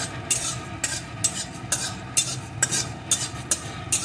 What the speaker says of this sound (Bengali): এখন এর ভিতরে আমি দিয়ে দেবো কয়েকটা মৌরি মৌরিটা একটু অল্প আছে